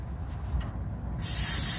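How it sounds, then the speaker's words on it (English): A steady hiss of WD-40 spray from a can onto a 2005 Subaru's rear brake parts, growing louder and brighter partway through, close by with low background rumble. "we're gonna spray it with WD-40 so we can loosen it up"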